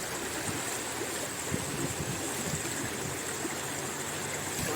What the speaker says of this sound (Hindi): पानी की कलकलाहट